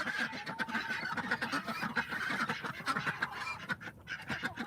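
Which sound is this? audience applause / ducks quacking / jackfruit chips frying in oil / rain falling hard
ducks quacking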